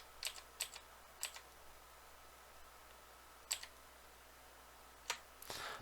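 Keys clack on a computer keyboard, including presses of the Alt key: a handful of sparse, separate taps spread over several seconds, faint and close in a quiet room, ending in a quick burst of clicks.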